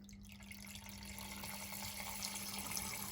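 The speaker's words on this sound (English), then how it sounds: "How much water does this pump flow?" Water rushing steadily from a pump salvaged out of a CPU liquid cooler, a continuous close splashing flow with no pause and no voices.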